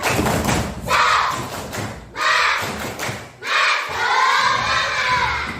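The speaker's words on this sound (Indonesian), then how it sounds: "Tepuk semangat." A group performing a tepuk semangat spirit clap at a school teachers' gathering, loud rhythmic bursts of clapping and chanting voices in three surges, close and energetic.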